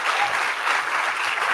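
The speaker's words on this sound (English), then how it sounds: "want to hear a louder clap on that." Loud, dense audience clapping at a women's event in India, a thick continuous wash of claps filling the short stretch without pause.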